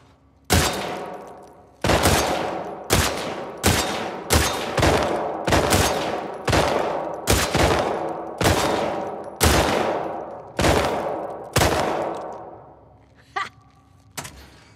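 Gunfire rings out in a friendly shooting competition in The Last of Us 2, where a full magazine is emptied: roughly a dozen loud, sharp shots at a steady pace, each one trailing off in a long echo, with no voices.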